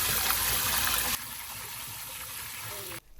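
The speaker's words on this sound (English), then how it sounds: "Put some cold water." Cold water gushes from a tap over boiled eggs in a kitchen, a loud steady rush for about a second that settles into a quieter continuous flow, then cuts off abruptly near the end.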